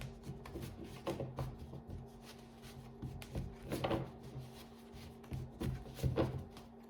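Tarot cards being drawn and laid out for a nine-card spread: soft, intermittent rubs, slides and light taps of card handling, close and quiet, with no talking.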